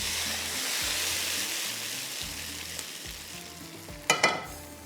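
Tadka tempering with onions sizzles and fries in a pan as a steady hiss. Toward the end come a couple of sharp clinks or spoon taps, and no one speaks.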